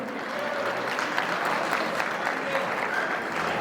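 Audience applause at an Armenian celebration for a couple, steady dense clapping heard at a moderate distance for several seconds, with some voices mixed in.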